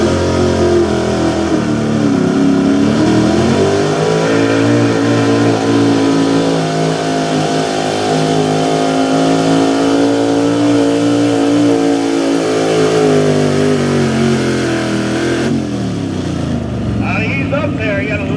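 A 1970 Chevy K20 truck engine roaring under load at a truck pull, a loud sustained revving drone that rises and holds steady before cutting off near the end, with an announcer talking over it.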